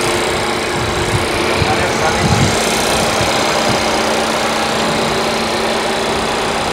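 A used car engine runs steadily at idle, a smooth continuous rumble close by, with faint voices mixed in, at a car auction.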